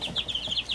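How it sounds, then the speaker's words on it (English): White leghorn chicks two to three weeks old peeping in rapid, regular high chirps, about eight quick calls in under a second, close and fairly loud. "So we got some chicks that baby's helping take care of."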